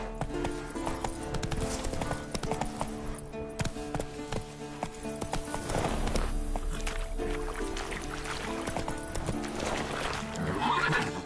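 Roach, a horse in The Witcher 3, gallops with steady clip-clop hoofbeats and whinnies, loud and continuous against a busy game soundtrack.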